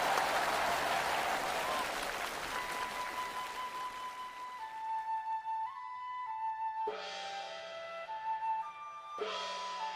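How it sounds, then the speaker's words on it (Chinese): An audience applauds at a Yue opera performance on a traditional stage in Shengzhou. The clapping starts loud and dense, then fades as sustained instrumental tones and plucked notes of the opera accompaniment take over. "掌声欢迎。"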